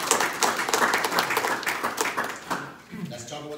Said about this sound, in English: Let's give ACN a round of applause.